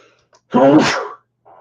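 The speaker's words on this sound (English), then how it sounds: "I'm going to sneeze in a moment here." A single loud, close sneeze bursts out abruptly and fades, with faint breathy sounds before and after.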